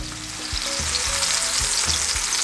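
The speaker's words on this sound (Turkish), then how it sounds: "Bunları bu yağın içerisinde hafif bir karamelize edeceğim" Lemons caramelize lightly in oil rendered from salmon, frying with a constant dense sizzle while soft, evenly spaced thumps from stirring or nudging the pan recur about twice a second, close up and with no talking.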